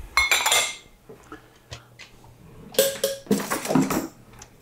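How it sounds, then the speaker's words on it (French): A utensil clinks and scrapes against a saucepan while sugar and flour are mixed together, in irregular bursts of metallic clatter with quiet pauses between them. "On va bien mélanger le sucre et la farine."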